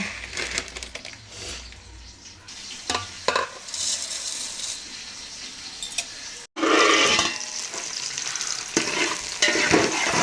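Onions cooking in a pan for mutton dum biryani hiss and sizzle steadily while being stirred, with scraping spoon strokes, a brief cut to silence, then a louder, brighter sizzle resuming close by.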